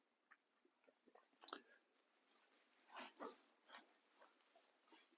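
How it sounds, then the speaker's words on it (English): Dogs coming up a hill outdoors, heard as scattered panting, snuffling and small yips with a few sharper bursts, moderately close but faint. "There's my puppy dogs coming up the hill."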